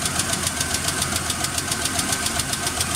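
A Jeep Comanche engine with a weak cylinder idles steadily with a faint uneven knock, the mechanical clatter loud and close throughout with no talking.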